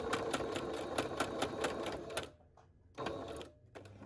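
A sewing machine runs steadily up close with a rapid mechanical chatter while stitching elastic onto a fabric face mask, then pauses briefly and starts again in short stops and starts.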